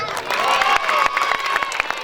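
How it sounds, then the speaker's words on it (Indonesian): A crowd at a school stage festival opening bursts into clapping mixed with cheers, whoops and children's shouts, lively and close for a couple of seconds. "Ya, tepuk tangan yang meriah."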